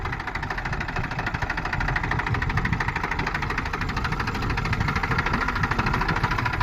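Tractor engine running steadily in a cotton field, a continuous low mechanical drone with vibration, close and fairly loud throughout, no voices.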